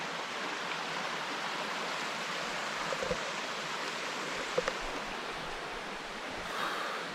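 A forest stream near Japali temple in Tirumala flows downhill in a soft, even rush, faint and constant, with a couple of small knocks partway through and no speech.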